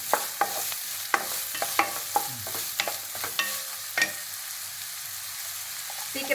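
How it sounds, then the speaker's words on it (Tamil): Chopped onions with cinnamon, bay leaf, cloves and cardamom sautéing in oil in a kadai, a soft sizzle broken by repeated sharp scrapes and clatters of a spoon stirring at an uneven pace, close by. "நல்லா வெங்காயம் வதங்கிருச்சு."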